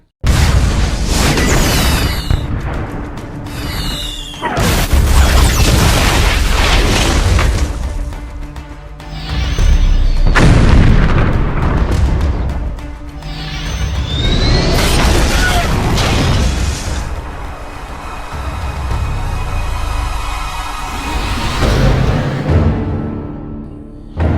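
Cannon or artillery fire from a battle scene booms out in heavy, loud explosions in repeated waves, with crashing and whooshing, mechanical rumble and brief gaps between blasts.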